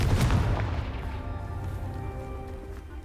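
A Confringo fire spell blast in Hogwarts Legacy lands as a single loud, booming explosion at the start, then fades into a decaying rumble with a faint lingering tonal hum.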